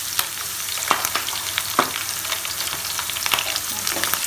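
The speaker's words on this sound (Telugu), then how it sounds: "ఈ ఉల్లిపాయ ముక్కలు మీడియం బ్రౌన్ కలర్ వచ్చేంత వరకు ఫ్రై చేయాలి." Chopped onion pieces frying in oil for an Andhra-style fish curry, a steady loud sizzle with occasional crackles and pops, close up and without voices.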